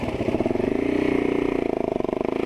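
Kawasaki Z650 motorcycle engine pulling under acceleration while ridden, a steady mid-pitched twin-cylinder drone with a rapid pulsing beat that holds close and fairly loud throughout, no talk over it.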